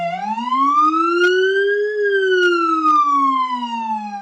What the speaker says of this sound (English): we have, of course, a speaker for the PA siren